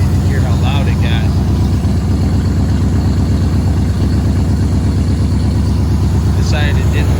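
Running without mufflers, a 1952 Ford Customline flathead V8 idles close by with a loud, heavy, rhythmic rumble that holds steady throughout, while short high chirps sound near the start and end.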